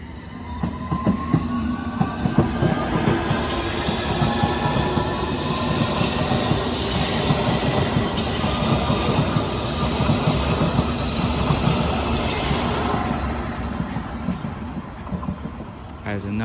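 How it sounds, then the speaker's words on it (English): A London Underground District line train pulls out of Barking station bound for Richmond, a steady loud rumble of wheels on rail with rhythmic clicks and rising motor whine, running continuously up close. "Departing A is a district line service to Richmond."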